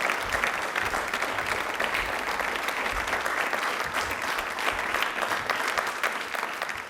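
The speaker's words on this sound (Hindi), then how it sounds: "एक बार प्लीज तालियां मैम के लिए जोरदार" An audience claps loudly and steadily for a teacher at a studio quiz programme, the dense applause holding at an even level throughout.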